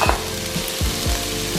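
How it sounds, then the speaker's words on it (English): Onions hitting a hot pan for Thai shrimp basil fried rice, a loud close sizzle with a few quick stirring scrapes, no voices. "Now I'm gonna put in the onions because I don't want to overcook the onions."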